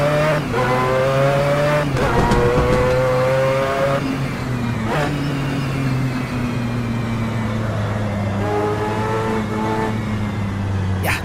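The high, buzzing wail of a Mazda 787B race car engine in a racing game, loud and close, holding steady tones through upshifts with brief lifts and pitch drops between gears.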